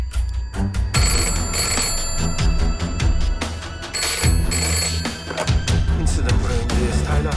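A telephone rings loudly over and over in sharp repeated bursts with short gaps between them, sitting over a low rumbling background.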